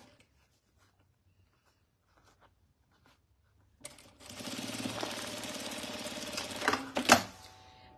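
A domestic sewing machine with a presser foot stitching fabric for a summer bag starts up after near silence, running as a steady rapid whirring rattle for about three seconds, rising in speed, then stopping with a final clunk.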